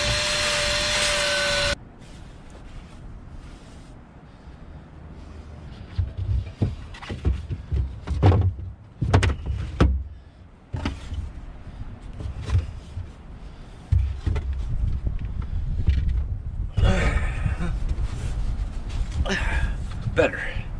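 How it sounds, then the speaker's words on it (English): A vacuum's suction whine sucking leaves and debris from under a grate on a wooden sailboat starts loud, cuts off, then returns near the end, with clunks, rustling and someone talking in between. "it's time to pull this grate and vacuum some of the leaves and other junk out of here"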